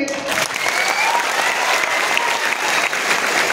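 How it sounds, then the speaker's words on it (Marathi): Loud, sustained applause from an audience at a student career-guidance gathering in Nanded, steady clapping filling the whole stretch without pause. "एकदा जोरदार टाळ्या वाजवायच्या"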